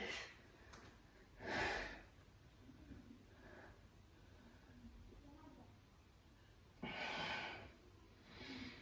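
Slow, deep breaths are taken in and pushed out during a hip-opening yoga pose, with long, airy breaths coming several seconds apart and close to the listener.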